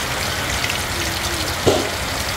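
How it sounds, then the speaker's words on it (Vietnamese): Fish sizzles in hot oil during a second round of frying, giving a steady, even crackle that fills the clip, with one brief clunk near the end. "Gấp ra mình chiên thêm một bụng nữa"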